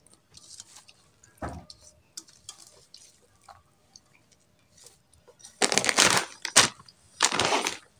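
Onion, chili and coriander leaves are mashed by hand with mustard oil into a bhorta-style mix. Soft squelching and crushing comes in a few dense bursts close up, with quieter handling noises between them.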